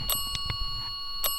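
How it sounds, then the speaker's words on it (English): A small bell rings on and on with a sustained shimmering tone during a paranormal investigation, broken by a few sharp clicks and faint rustling. "Bell steadily going nuts."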